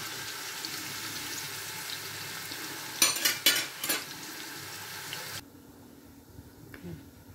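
Onions frying in a pan for chickpea pulao give a steady, even sizzle, broken midway by a few clattering stirs, then the sizzle abruptly drops to a faint low hiss.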